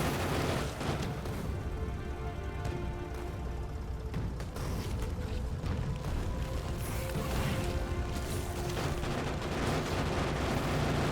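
Sustained tank gunfire pounds away at swarms of bugs in Factorio, a dense, continuous barrage of shots and booms layered with a busy game soundscape, loud and unbroken throughout.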